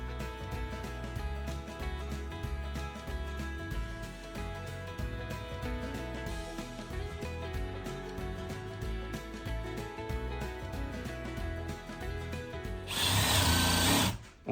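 Power drill driving screws during home addition construction, a steady mechanical whir running throughout over a busy tonal background, ending in a loud, harsh burst of high-pitched buzzing at the close.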